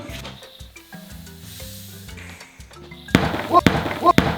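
A sharp, loud pop as an inflatable plush toy bursts after a stretch of background music and chatter, followed by noisy rustling and a couple of bright squeaky sounds.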